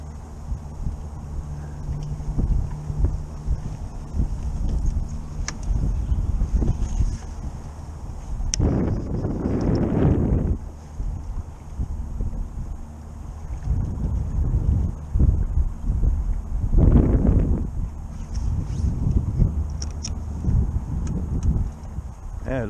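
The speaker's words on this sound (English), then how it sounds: "This way the wind's blowing, I guess that's all right." Wind blows at a riverbank during trout fishing, a steady rumbling buffet on the microphone with stronger gusts swelling in bursts, under occasional faint background noises.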